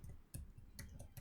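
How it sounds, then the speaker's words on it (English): Slow typing on a computer keyboard, a handful of separate faint clicks spaced unevenly across a short stretch, quiet and close. "so here goes my slow typing again"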